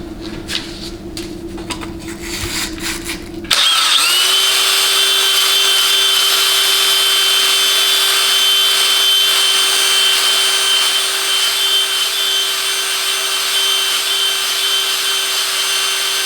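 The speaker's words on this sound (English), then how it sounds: "I think what I'm going to do is chuck the valve up into the drill." A GM 700R4 transmission valve chucked in a power drill and spun, a steady high whine that starts abruptly after a few seconds of workshop rattle and holds loud and constant to the end.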